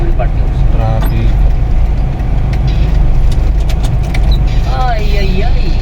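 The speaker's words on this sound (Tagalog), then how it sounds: "Traffic." Road traffic flows outside an airport terminal at the departures area, a dense steady rumble of car and bus engines with passing vehicles, while people talk over it.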